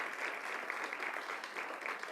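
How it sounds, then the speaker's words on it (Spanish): Church congregation applauding during a Thursday worship service, a steady dense wash of clapping from many hands that holds evenly throughout with no voices over it. "Le damos un aplauso al Señor."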